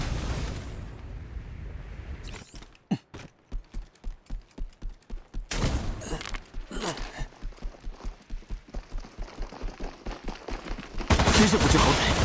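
Rapid bursts of gunfire from the mobile shooter game High Energy Heroes, a long run of sharp evenly spaced shots with brief pauses, loud and close, with a heavy blast near the end.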